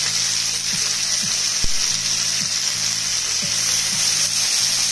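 Oxtails browning in a hot pan, a steady bright sizzle running throughout with faint low knocks and scrapes underneath, close and even, nobody speaking.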